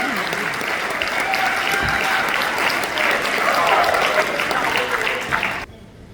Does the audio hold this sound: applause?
yes